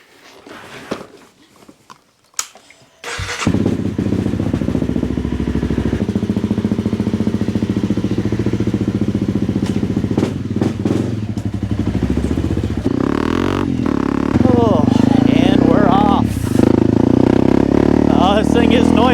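Honda CRF250L motorcycle, five years old and freshly serviced, starts after a quiet stretch of shuffling and a thump, then runs steadily up close with throttle rises, a voice talking over the engine.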